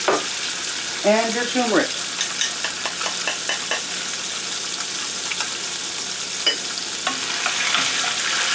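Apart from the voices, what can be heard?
tofu frying in hot oil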